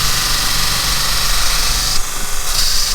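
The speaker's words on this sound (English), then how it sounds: "so I'm going to grind that edge away" Belt grinder running a 60 grit Norton ceramic belt against a brazed carbide boring bar, a steady close whine and rumble throughout that shifts briefly as the bar is pressed and lifted, with no talk.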